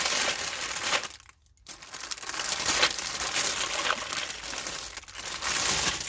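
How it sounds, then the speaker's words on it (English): A plastic bag holding fifty craft items is handled close by, giving steady crinkling and crumpling rustle with two short pauses, no speech over it. "Sorry for the rustling."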